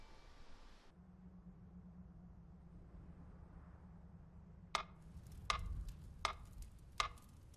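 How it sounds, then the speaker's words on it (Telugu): A clock ticks steadily during a quiet hypnosis session: four sharp, evenly spaced ticks close by in the second half, following several seconds of low hum and room tone. "ఈ టికింగ్ శబ్దం వినపడుతుందిగా"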